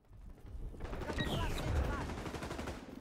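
Rapid automatic gunfire from a Vector submachine gun in the shooter game XDefiant, dense bursts over game sounds and effects, fairly quiet overall.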